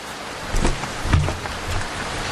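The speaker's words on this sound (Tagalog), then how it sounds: "naabutan pa rin ako ng ulan" Steady rain pours down with a constant wash of noise, swelling in a few louder gusts, close and heavy, with no voices.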